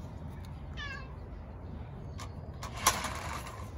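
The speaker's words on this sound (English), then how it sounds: "Oh, here's my cat, Jinxie." A pet cat named Jinxie gives a short meow close by, followed a couple of seconds later by a brief sharp knock against a quiet indoor background.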